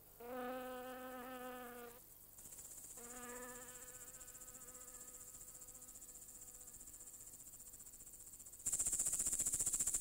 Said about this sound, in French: Des insectes, comme les sauterelles et les criquets.